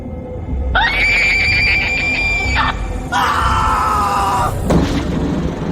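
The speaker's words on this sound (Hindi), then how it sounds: "वही बूढ़ी औरत रजत की आंखों से सिर्फ 2 इंच की दूरी से उसे देखकर जोर से चीखी" An old woman's loud scream as a horror story sound effect comes in two long, shrill, wavering cries, followed by a brief low thud.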